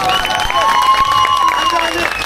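A crowd at the Lişer highland festival in Trabzon applauds and cheers, steady clapping spread across a large gathering, with a high whistling tone and voices drifting over it.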